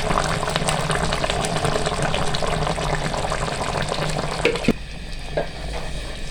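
Ground onions frying on high heat for chicken karahi, a loud, steady close sizzle with stirring scrapes that quiets somewhat near the end.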